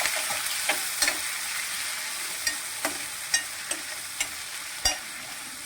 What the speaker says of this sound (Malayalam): ചതച്ച് വെച്ച ഇഞ്ചി വെളുത്തുള്ളി പച്ചമുളകും കൂടെ ചേർത്ത് ഒന്ന് മൂപ്പിച്ചെടുക്കാം